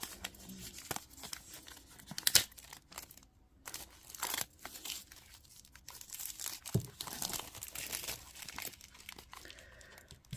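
A tarot card deck has its plastic wrapper opened, with close, quiet crinkling and tearing in bursts and brief pauses between them, and no one speaking.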